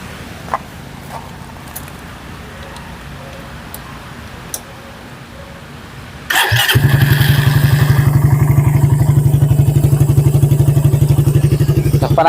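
Near a motorcycle, light ticks and taps sound over quiet background, then the engine starts abruptly and runs at a loud, rough idle with a steady rapid pulse and a persistent ticking knock.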